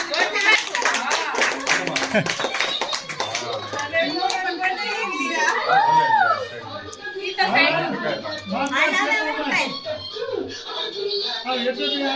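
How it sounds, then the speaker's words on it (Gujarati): At a home birthday party, a group claps in quick bursts, busiest at the start, while voices chatter and call out over and between the claps. "હાલો ભાઈ તાળીઓ પાડો"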